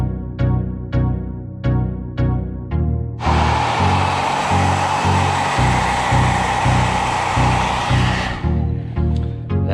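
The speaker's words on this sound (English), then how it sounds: "All I did was use a hair dryer." A hair dryer blows steadily for about five seconds, heating a logo sticker on an AVS vent visor and bug deflector, its broad airy roar loud and close over a repeating rhythmic backing beat.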